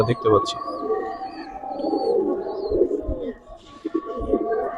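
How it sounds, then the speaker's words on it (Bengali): Giribaz pigeons coo in low, rolling bursts that continue steadily at close range, with murmured human voices and scattered knocks underneath. "দর্শক কবুতরগুলো কেমন দেখতেছেন"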